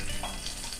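Spices temper in hot oil for temple-style tamarind rice, giving a continuous loud sizzling and crackling hiss that fills the short moment with no voices.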